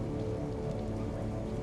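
Steady rain pattering down in a Star Wars: The Old Republic jungle area, a dense continuous hiss of drops on surfaces with no gaps, fairly loud and close, with no voices over it.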